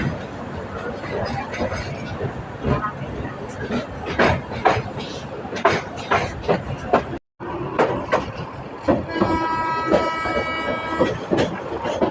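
A Narayanganj–Dhaka commuter train rumbles along with rhythmic clacking of wheels, a brief dropout midway, and sustained horn-like tones near the end.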